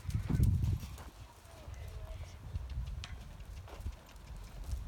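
Horse hooves clop during a riding lesson, a muffled rhythmic beat on the arena footing, with an instructor's voice talking over it.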